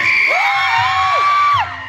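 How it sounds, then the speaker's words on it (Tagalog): A crowd at a wrestling match yells and cheers loudly for one team, rising whoops and shouts sustained for nearly two seconds before dropping off. "Mukhang mas malakas talaga ang sigaw ng Team Apollo."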